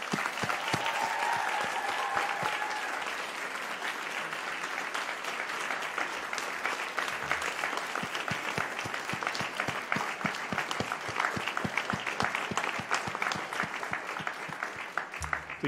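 A university health-faculty convocation crowd applauding graduates in a long, sustained round of clapping that stays steady, with individual claps standing out toward the end.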